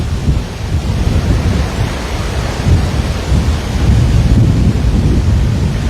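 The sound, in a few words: rainstorm in Waikiki, Hawaii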